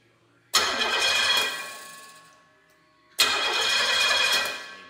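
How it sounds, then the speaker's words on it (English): A pump-gas 428/467 stroker V8 with iron cylinder heads cranks and catches with a loud burst, settles into a rumbling idle that fades, then a second start roars up and keeps running. "Let's fire this dude up and let you hear what it sounds like."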